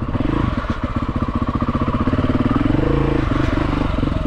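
A Husqvarna TE310R motorcycle engine chugs with a fast, even mid-pitched pulse while being ridden, loud and close throughout.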